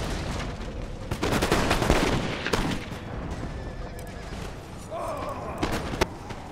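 Musket volleys from Empire: Total War during a Great Northern War battle with Swedish troops, crackling gunfire rolling under steady battle noise while someone talks over it.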